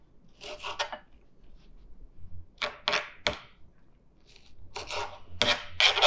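A knife chops through half an onion on a board, cutting it into cubes in short bursts of quick, close, crisp strokes separated by pauses.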